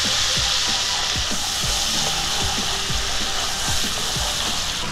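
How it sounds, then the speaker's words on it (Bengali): Spice paste of chilli powder, turmeric and a little salt frying in a pan, with a steady dense sizzle and regular soft scraping stirs throughout. "এবার মশলাটা খুব ভালো করে কষিয়ে নেবো"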